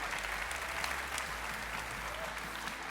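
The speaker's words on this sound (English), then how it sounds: "One more huge round of applause." Enthusiastic audience applause for contestants at a cosplay contest during a Magic convention in Amsterdam, a continuous wash of clapping with steady loudness and no pauses.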